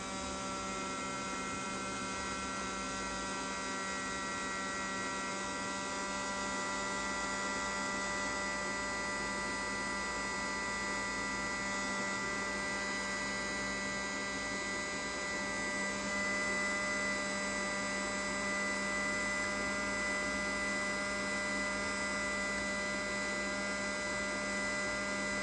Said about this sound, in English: We need to remove this diode, so I'm using my heat gun to take it out.